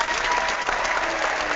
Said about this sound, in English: the angels giving you a big applause for reaching out and being on the line